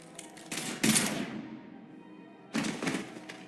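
A few sharp gunshot bursts in the Mass Effect 3 video game, two short clusters of blasts separated by a quiet gap, fairly faint and with no talking.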